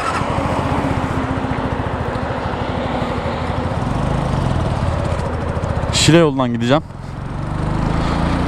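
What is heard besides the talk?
Superlight 125 motorcycle engine running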